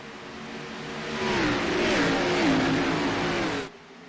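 Race cars throttle up at the green flag, their engine roar swelling from a steady hum to a loud rising whine before it cuts off abruptly.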